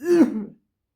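A single throaty cough, short and close, rising harshly then fading out within half a second before silence.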